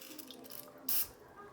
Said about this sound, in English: I'm just gonna do it savage mode and spray some of this stuff